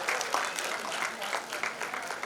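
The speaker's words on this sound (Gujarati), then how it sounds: "આપણે તાળીઓના ગડગડાટથી વધાવીએ" Applause from an audience welcoming nurses at a nursing institute oath ceremony, a steady patter of many hands clapping throughout, moderately loud and continuous with a brief voice or two mixed in.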